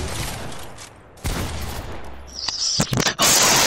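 Video game gunfire comes in dense, loud, chaotic bursts and volleys, swelling into a heavier barrage near the end.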